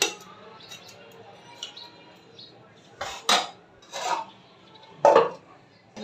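Hilsa fish being stirred in a pan for a bhuna with onion and green chilli, then a lid set on: several loud metallic clanks and scrapes of utensil and lid over a low kitchen background, with no one speaking.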